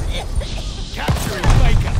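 In a Call of Duty Vanguard multiplayer Domination match, a grenade explodes with a sharp boom among bursts of gunfire, and in-game voices call out close by.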